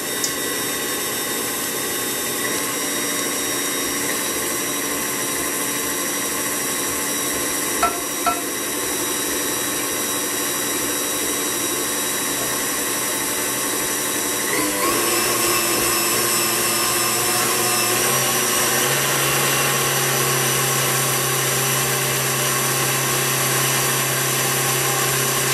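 An electric stand mixer whips eggs in a warm bowl at a steady, lowered speed, a loud continuous motor whir that shifts pitch slightly partway through and carries a couple of faint clicks, with no voices.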